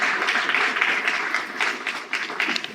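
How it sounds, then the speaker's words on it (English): An indoor audience at an autism awareness event gives a round of applause, moderately loud, continuous clapping that swells and dips slightly before easing toward the end. "Let's give them another round of applause."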